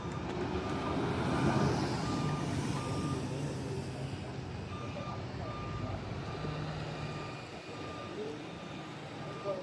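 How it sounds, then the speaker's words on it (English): Buses pull into a busy bus station in the after-school rush, with a vehicle's reversing beeper sounding in steady repeated pulses over a continuous rumble of diesel engines and roadway noise. "we have some buses coming in here"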